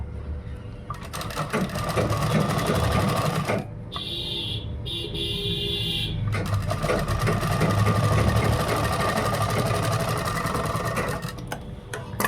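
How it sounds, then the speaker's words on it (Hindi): An electric sewing machine stitches a kurta made from a dupatta, a steady close whirring hum with fast needle clatter that runs almost continuously and pauses briefly twice. "मिलाने के बाद इसमें सिलाई लगा।"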